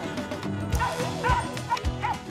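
A hunting dog in the Kentucky woods bays and yips while chasing a squirrel, three close, rhythmic bursts with whiny upper tones over constant outdoor background noise.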